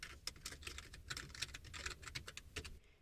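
Soft, quiet keystrokes patter in a steady run on a computer keyboard as a search query is typed, the clicks close and continuous for a few seconds before stopping.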